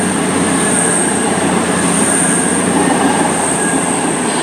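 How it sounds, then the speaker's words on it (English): A double pairing of Virgin Super Voyager diesel trains rushes through Stafford station on the West Coast Main Line, a loud, sustained roar with a high metallic wheel squeal running throughout. "through now is a double pairing of Virgin Super Voyagers"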